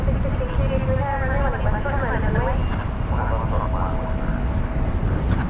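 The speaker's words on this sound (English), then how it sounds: "Let's see if we can pick up on the Qantas Air as it pokes its nose out down here." A Qantas airliner taxis at DFW Airport at night, its engine whine and rumble steady and fairly loud throughout, with tonal whistles rising and falling over broad roar while people talk nearby.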